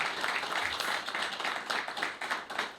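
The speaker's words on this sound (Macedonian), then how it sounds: "Би сакал Перо и Спирко да ги поздравиме со еден аплауз." Audience applauding two veteran footballers at a club veterans' reunion in Tetovo, a steady close round of clapping filling the whole stretch without talk.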